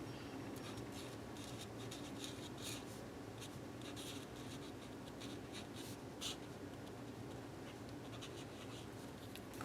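A black 4mm bullet tip marker scratches across paper in a continuous soft scritching with short stroke bursts, close up and alone.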